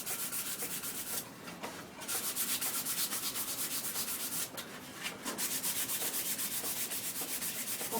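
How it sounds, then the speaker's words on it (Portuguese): A wooden lid being hand-sanded for decoupage: steady, close back-and-forth rubbing strokes of sandpaper on wood, continuous and even, with no voices. "vamos lixar a tampa"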